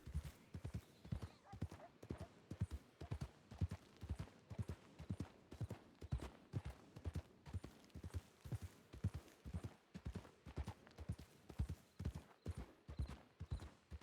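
Horse hooves clip-clopping steadily in a video game, an even rhythmic stream of soft thuds with a faint background bed, no other sounds standing out.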